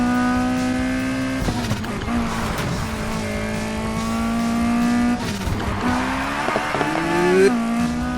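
A Ferrari F40 in Need for Speed Heat braking into a corner, its loud engine holding a steady tone, then dropping and rising in pitch with gear shifts and a brief tire squeal.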